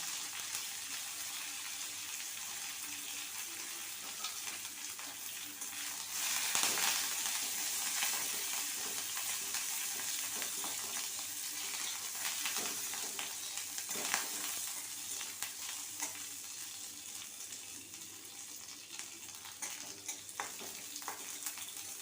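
Dried red chillies and curry leaves, added after black mustard seeds, sizzling in hot oil: a long, steady, fairly quiet crackling hiss that swells briefly after a sudden burst, with no talking.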